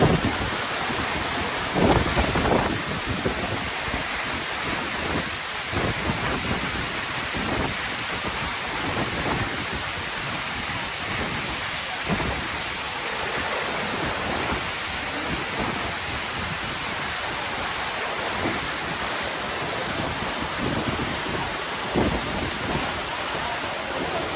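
A steady, roaring rush of falling water at Valanjanganam waterfall in Kerala fills the scene, loud and continuous, like standing close to a powerful waterfall.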